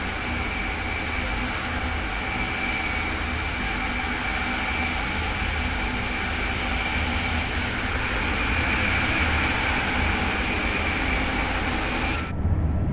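A BR 406 high-speed electric train runs in the Train Sim World 2 video game, giving a steady, continuous drone with a constant whine at near-even loudness throughout.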